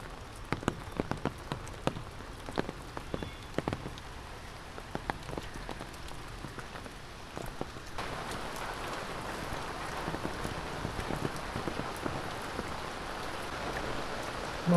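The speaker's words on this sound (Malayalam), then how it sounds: "നല്ല മഴയാണല്ലോ." Rain falls steadily, first as distinct dripping drops landing on a surface, then swelling after several seconds into a heavier, continuous patter that keeps going with no voices.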